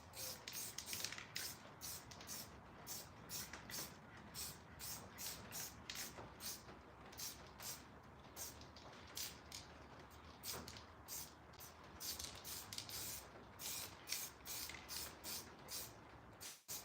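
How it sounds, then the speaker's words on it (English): Repeated short hissing bursts of white spray paint, quick and regular, continuing steadily at a low level throughout. "I'll just spray it back with a bit of white"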